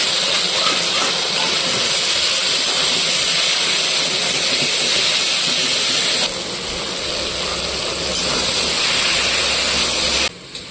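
Taro leaves hit a pan of garlic and fry with a loud, broad, steady hiss that runs unbroken, briefly dipping in level partway through before cutting off near the end.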